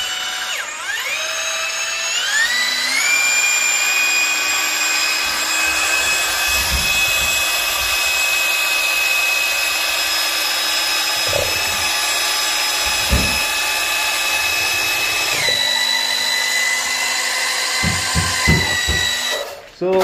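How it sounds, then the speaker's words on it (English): Power drill with a mixing paddle whirring steadily through smooth drywall mud, a loud, close, continuous high whine that holds for nearly twenty seconds, with slight pitch shifts and occasional knocks of the paddle against the bucket. "And then that's our preferred drill."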